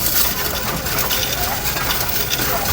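Pennies, nickels and dimes from a piggy bank pour and jingle in a dense, continuous metallic rattle, close and fairly loud throughout, with no talking.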